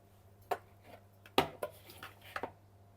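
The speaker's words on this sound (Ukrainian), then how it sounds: "Зараз картоплю викладаю" Potato slices laid into a baking dish for a Hungarian potato and sausage casserole: a few soft, scattered clinks and taps spread across a quiet kitchen, with one sharper knock in the middle.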